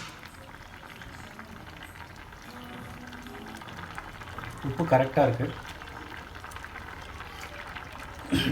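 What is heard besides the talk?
curry boiling in a pot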